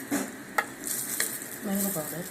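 Baby corn for baby corn 65 is tossed with salt, red chilli powder, 65 masala, turmeric and mango powder, making soft scraping and stirring rustles with a couple of light clicks, quiet and close, with no speech.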